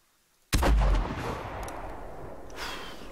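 A hunting rifle fires in theHunter Classic video game while stalking moose: one sudden, loud, booming shot after a near-silent moment, followed by a long rolling echo that fades out.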